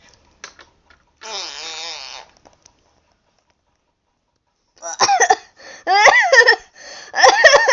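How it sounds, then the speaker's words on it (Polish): A comic fart sound in a homemade toy-figure comedy skit, a single loud, buzzy, sputtering blast lasting about a second, followed after a pause by several sharp, squeaky, clucking-like bursts. "Ciekawe, kto sobie puścił gazę."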